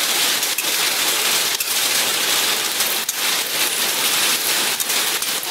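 Heavy rain pours steadily on a surface nearby, a dense, loud, unbroken hiss with scattered sharper drops and no voices.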